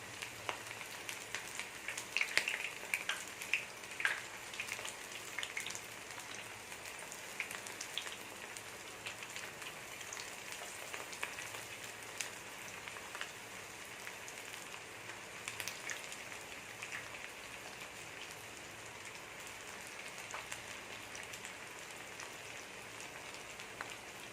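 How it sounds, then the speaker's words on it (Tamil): Prawns for prawn 65 deep fry in oil on medium heat, a faint, even crackling sizzle that carries on for a long stretch, with scattered tiny pops and no talking. "மீடியமில் வச்சு பொரிச்சுக்கணும்."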